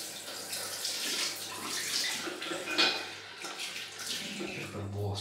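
Water runs from a tap during a wet shave with a Razorock razor, a steady splashing hiss at moderate level with small surges, close by and with no talk over it.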